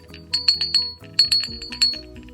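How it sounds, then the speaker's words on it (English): Clay loop striking the inside of a handmade hanging clay bell, giving several bright, ringing clinks in two quick bursts of about four strikes each, close and clear with no talking. "That's the noise of the loop hitting the inside of your bell."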